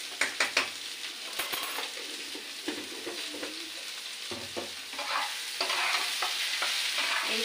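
Fish masala stirred and sautéed in a pan for a cabbage-and-fish dish, a steady sizzle with repeated scraping spoon strokes and occasional knocks against the metal, close and continuous throughout.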